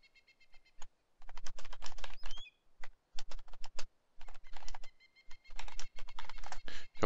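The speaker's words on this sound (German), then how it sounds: "Ich hoffe, meine Tastatur ist nicht so laut" Fast, uneven bursts of clicky typing on a computer keyboard during a DayZ game session, close and fairly loud, with brief pauses between flurries and faint game sounds in the background.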